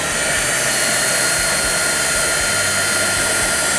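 A heat tool blows steadily under embossing materials to melt them together for an encrusted jewel craft effect, a loud, constant whooshing hiss with no pauses and no talk over it.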